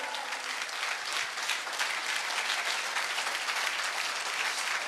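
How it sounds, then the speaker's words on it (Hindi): An audience claps loudly and continuously at a business success event, a dense, even wash of applause throughout with no speech. "जोरदार ताली होनी चाहिए सर के लिए।"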